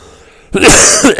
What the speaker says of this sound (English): Don't cough during a voiceover